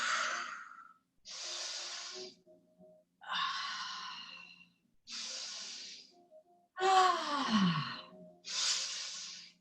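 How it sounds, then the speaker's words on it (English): Loud, forceful breathing during an all-levels yoga flow, six long hissing breaths close to the mic in a slow steady rhythm with short silences between, some ending in a throaty sighing sweep; no spoken words. "Audible exhales. Permission to be loud."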